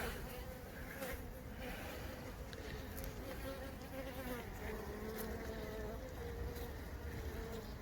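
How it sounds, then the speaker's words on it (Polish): A dense, steady buzzing of many honeybees at an apiary hive fills the air, close and continuous with no pauses. "Troszkę jest pszczół."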